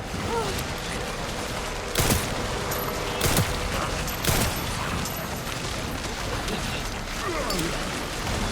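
Gunfire at enemies in the survival-horror game Resident Evil Requiem: three sharp, loud shots spaced about a second apart stand out over a dense, constant game ambience, with faint talk in the background.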